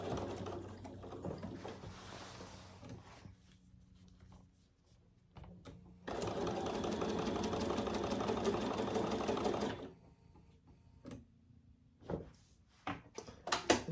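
Sewing machine stitching a tote bag, a close, steady mechanical whir running for about four seconds between quieter handling clicks and rustles.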